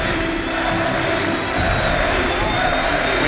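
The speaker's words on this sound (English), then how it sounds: "We hear the crowds here." Crowd at the LoL AllStars Paris 2014 esports final cheering and applauding, a steady wash of distant roar and clapping that continues throughout, with a commentator talking over it.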